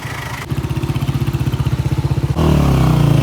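Motorcycle engine on a rough mountain hiking track in the Bashu valley area, loud and close, chugging in a steady pulsing rhythm before the revs rise to a harder, denser roar.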